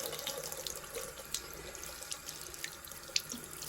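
Tap water runs steadily into a sink as a makeup sponge is rinsed under it, a soft continuous splashing with a few faint drips and no speech.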